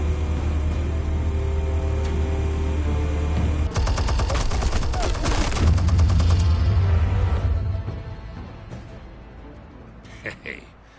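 Film gunfire from R.E.D., a low rumbling engine bed giving way to a dense burst of rapid automatic shots and blasts mid-clip, then trailing off into quieter scattered sounds.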